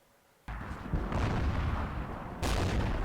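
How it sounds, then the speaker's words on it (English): Short 88 gun on a VK 36.01 (H) tank in World of Tanks fires with a sudden loud blast, followed by sustained rumbling battle noise and a second heavy report near the end. "So my first shot with the short 88."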